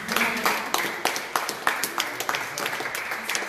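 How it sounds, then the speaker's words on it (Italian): Audience applause in a lecture hall during a talk on the Jericho skulls, with irregular sharp claps and uneven bursts of clapping over about three seconds, moderately loud, with no speech over it. "C'è un applauso."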